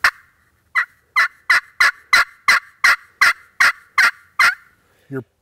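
A mouth or friction turkey call imitates hen turkey yelping with a string of about eleven crisp, loud, close yelps in a regular cadence, ending in a lower trailing note.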